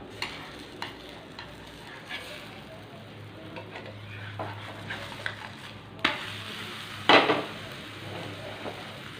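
A wheat flour and banana breakfast fries in ghee in a pan and gets flipped. A steady close sizzle runs under light scraping and clinks from a utensil, with a sharp metallic clatter near the end.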